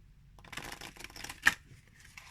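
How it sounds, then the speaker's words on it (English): Glossy standard-size oracle cards being shuffled by hand, a series of soft riffling flutters with a sharper snap midway, quiet and close with no talking. "So let's go and shuffle them."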